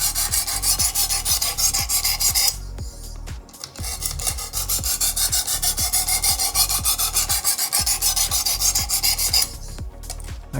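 A knife blade is drawn repeatedly across the abrasive of a Work Sharp sharpening kit, making steady, close, rhythmic rasping strokes with two brief pauses.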